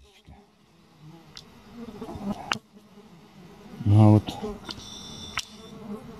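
Flies buzzing around someone gathering mushrooms in a forest, a faint insect drone under low talk, with one louder close pass as a fly nears.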